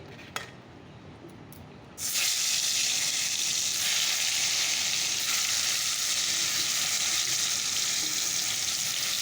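A quiet kitchen, then a sudden loud burst of sizzling as pointed gourd hits hot oil, settling into a steady, close frying hiss.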